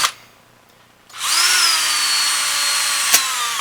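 Power drill boring a 7/64-inch hole in wood while building a bow, a steady high whine that starts after a second of quiet, holds with a slight pitch drop under load, and runs close and loud to the end.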